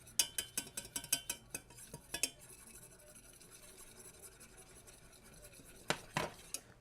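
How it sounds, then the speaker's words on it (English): A whisk clicks quickly against a pan while flour is stirred into a butter roux over medium heat: a run of light, rhythmic metallic taps, a quieter stretch, then a few more near strikes. "we're just going to kind of sprinkle in lightly our flour, and we're not going to stop whisking it"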